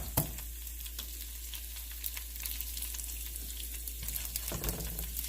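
Dried red chilies and garlic dropped into hot oil in a pan for coconut chutney tempering, a steady close sizzle with small crackles and a louder splash of frying near the end.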